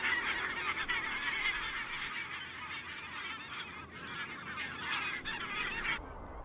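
A flock of barnacle geese honks continuously, a dense overlapping chorus of many calls, with no voices.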